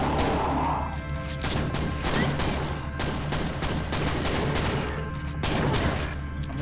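Heavy gunfire in the Quake mod Brutalist Jam 3, a dense, continuous barrage of loud shots and impacts crashing throughout, with no talk.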